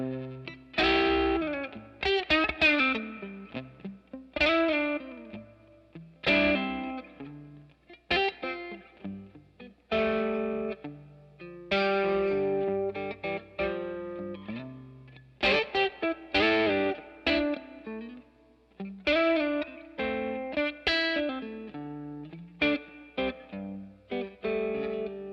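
Electric guitar played through a Fender MTG tube distortion pedal with Tre-Verb reverb, loud riffy chords and sustained notes in short phrases with gaps, the reverb tails lingering after each strum.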